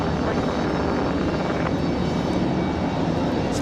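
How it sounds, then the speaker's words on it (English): An Air Canada Jazz airliner lands at Raleigh-Durham International in gusty wind, a loud, steady engine roar filling the scene without a break. "So good smooth landing for Air Canada"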